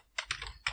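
A few quick keystrokes tap on a computer keyboard while a command is entered in a terminal, three short clicks close by and quiet.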